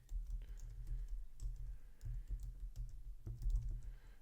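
Typing on a computer keyboard as a folder name is entered, with steady rapid clicking keystrokes close up. Short pauses break the rhythm, and no one speaks.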